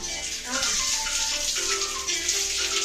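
Water rushes steadily into a machine drum, a constant splashing hiss with faint voices and small clunks under it.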